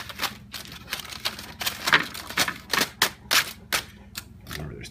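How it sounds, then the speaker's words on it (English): A knife cutting into tin foil wrapped around oven-baked French fries makes a run of sharp, crinkly clicks and crackles at an uneven rhythm, close up and fairly quiet, with no speech. "you literally just cut into the tin foil."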